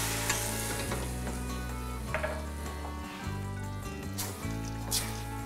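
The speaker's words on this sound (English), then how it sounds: "And now I will deglaze with the white wine." Toasted rice sizzles in a pan as white wine is poured in to deglaze it, a steady loud hiss and bubbling with the scrape of stirring throughout.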